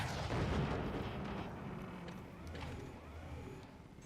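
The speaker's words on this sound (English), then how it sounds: "That's a great cannon shot." Cannon fire from the real-time strategy game Forts, heard as heavy booming blasts with a rumbling low end that stays dense throughout, during a multiplayer tournament match.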